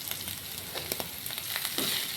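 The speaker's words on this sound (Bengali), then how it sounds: "আমি একটু সময় জন্য ভেজে নিব" Boiled potatoes frying alongside chicken in a pan give a steady, close sizzle with faint stirring scrapes, and no voice is heard.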